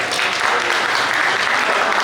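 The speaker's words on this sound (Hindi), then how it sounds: "ताली नहीं बजाओगे?" Audience clapping steadily at a Jain devotional worship gathering for Bhagwan Parasnath and Maa Padmavati, a dense, continuous wash of many hands filling the hall throughout.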